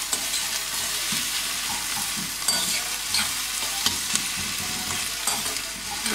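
Onion frying in coconut oil in a pan, a steady dense sizzle throughout with scattered utensil scrapes and stirring clicks, close and fairly loud, no voices.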